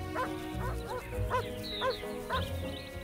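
Shepherds' guard dogs bark in the Carpathian Mountains, a steady run of about six barks from a moderate distance over a constant outdoor rumble.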